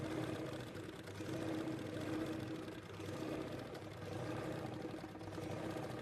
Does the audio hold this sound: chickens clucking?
no